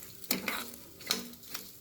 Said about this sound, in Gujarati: બધી જ વસ્તુ શેકાઈ રહી છે